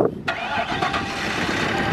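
A car engine lubricated with cooking oil instead of engine oil cranks briefly and fires up, then settles into a loud, steady idle close by, with a faint voice underneath.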